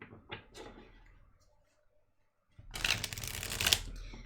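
Tarot and oracle cards being shuffled, a couple of quick riffles, then a pause and a louder sustained burst of shuffling close by.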